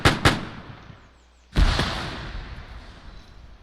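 In an Arma 3 battle, two sharp gunshots crack first, then a grenade explosion booms loud and close and fades into a long rumbling tail.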